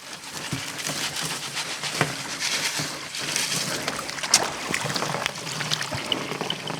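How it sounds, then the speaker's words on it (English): Wet sand thrown from a shovel onto a large water-filled sluice box, a rushing slosh and spatter over steady running water with scattered gritty splashes, close and fairly loud. "Throw a shovel full of sand on there."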